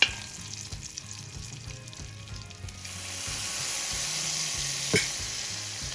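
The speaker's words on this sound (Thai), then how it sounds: "ผัดให้หอมนะคะ อมเหลืองได้ที่นะคะ" Aromatics stir-fry in a carbon steel wok for Thai braised pork leg, sizzling steadily up close while a utensil scrapes and stirs in a rhythmic pattern, the sizzle growing louder and denser midway through.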